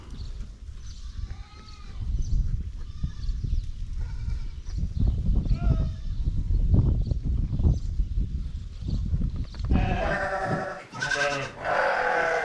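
Baby goats shut inside a barn bleat again and again, their wavering, high cries coming at irregular intervals over a loud, rough background of rustling and movement, with a burst of overlapping calls near the end.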